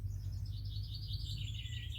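Birds chirp outdoors in the countryside, a thin, continuous twittering at moderate distance over a low rumbling background.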